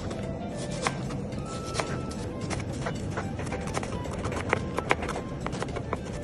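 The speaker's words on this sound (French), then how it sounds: "On coupe l'oignon." Knife chopping onion on a board, with many quick, sharp taps scattered through steady background noise, close and moderately loud.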